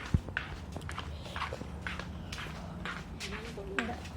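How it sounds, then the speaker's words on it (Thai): Footsteps walking at a house during a power outage, a steady sequence of close steps with people talking over them. "เดินครับผม"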